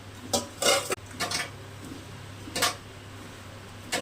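Raw loitta fish gets mixed with turmeric and oil in a bowl, a few sharp clinks and scraping knocks against the dish in short irregular bursts, separated by quiet pauses over a low steady hum.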